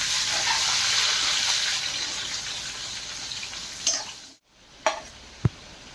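Vegetables with chillies and garlic frying in hot oil in a pan while being stirred, a steady close sizzle broken by a brief silence and a few sharp scrape and tap sounds near the end.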